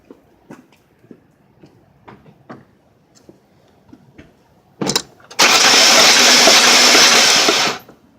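After a few soft clicks, a ZX2 engine cranks on the starter during a wet compression test of cylinder 3. The fast, loud, even churning runs for about two and a half seconds and then cuts off.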